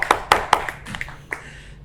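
A few scattered hand claps from a small audience at an artbook presentation, sharp and close, with the first three coming quickly and later ones fading into softer isolated taps.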